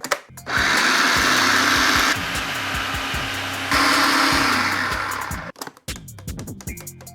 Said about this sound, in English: You wanna blend this down really fine.